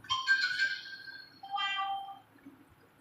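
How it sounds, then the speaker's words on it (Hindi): A mobile phone ringtone plays during a religious majlis gathering in Nellore: two short melodic tone phrases, faint and fairly clear over a quiet background. "अगर किसी का फ़ोन आए तो रिसीव कर लेना"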